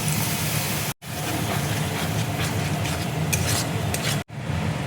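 Ground cumin and coriander masala sizzles in a pan as a little water goes in, producing a dense hissing roar broken by two brief dropouts, with light stirring clinks.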